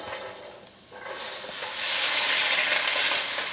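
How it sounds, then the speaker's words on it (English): Steady, bright sizzling of corn frying in a hot skillet, swelling louder after a moment and continuing as a close, crackling hiss. "Can you hear that sizzle? Those are good kitchen noises."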